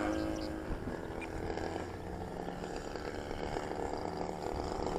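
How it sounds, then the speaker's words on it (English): A steady buzzing engine drone from a quarter-scale clipped wing Taylorcraft model airplane runs throughout, fairly quiet and continuous with a slight rattling texture, like a small motor holding a constant pace. "The engine sounds good"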